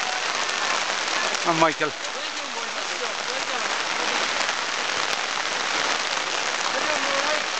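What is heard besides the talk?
heavy rain falling at a road race finish line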